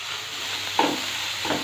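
Chana dal roasting in a pan for kachori filling, a steady dry sizzle with a few scraping stirs, close and moderately loud, no talking.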